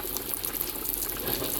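Mustard hilsa curry with ground mustard paste bubbling at a steady boil in a cooking pot, a continuous close fizzing and bubbling hiss with no talking.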